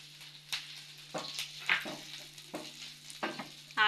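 Moringa leaves frying in a pan, a soft sizzle with intermittent scraping stirs and light clinks at irregular intervals, close up.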